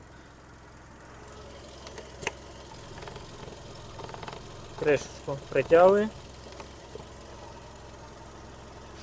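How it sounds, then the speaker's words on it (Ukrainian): A 1.6 MPI Volkswagen Golf V petrol engine idles with a steady low hum throughout, while a person speaks briefly over it. "Робота двигуна."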